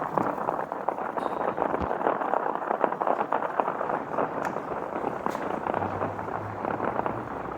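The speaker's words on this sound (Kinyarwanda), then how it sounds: "iyi mbunda yo mu Rwanda iri kurasa" Gunfire in the city of Goma during fighting, heard as a dense, continuous crackle of shots and bangs filling the whole stretch, fairly loud and without clear gaps, with no speech over it.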